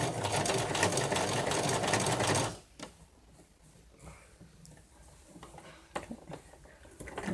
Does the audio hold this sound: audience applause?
no